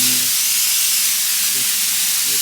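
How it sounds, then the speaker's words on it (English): An air compressor runs steadily in the background of a woodworking shop, a continuous broadband hiss that fills the clip, with faint low tonal hum and brief knocks near the start and middle. "I know you can hear the air compressor in the background."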